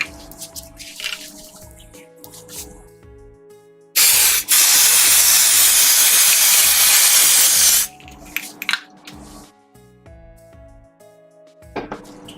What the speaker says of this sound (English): I'm gonna spray the surface down.